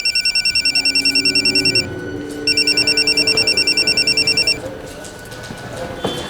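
An electronic ringback tone pulses in rapid repeating bursts, pausing briefly between two rings, then stops; faint low background sound continues.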